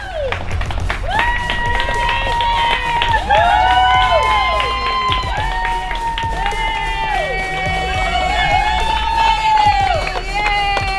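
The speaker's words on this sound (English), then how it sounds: "As we get closer to the end, we see the Dunkin' Donuts, people start cheering for us." Spectators near the finish of a 50-mile charity run, ending by a Dunkin' Donuts on the beach, cheer and whoop in rising, overlapping shouts over a crowd backdrop, including excited children's voices, lasting throughout.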